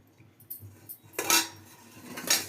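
A metal spoon clinks and scrapes against a pot as food is stirred, with a few louder knocks, close by.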